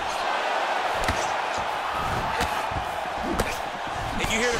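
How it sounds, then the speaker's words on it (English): Arena crowd in the EA Sports UFC 4 video game reacts to heavy strikes, with cheers and whoops swelling around sharp impact thuds and slams, while commentary talk runs over the top. "You hear the crowd react every time they come together because they understand the power that these guys are striking with."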